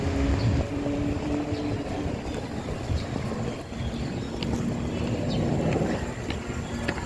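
Taipei MRT metro train at Sanchong station, a steady broadband rumble of the train throughout, fairly loud with wind-like noise and faint tonal squeals, no talk.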